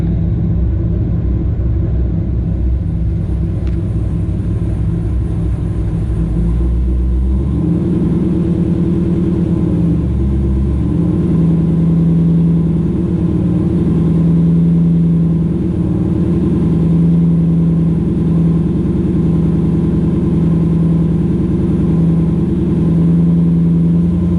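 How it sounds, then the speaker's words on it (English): A supercharged Corvette engine rumbles close by as it is revved against the held brake, a low idle swelling into a louder, rougher sustained drone that keeps wavering unevenly. "I'm gonna try a test of holding the brake and increasing the gas and see what it does then."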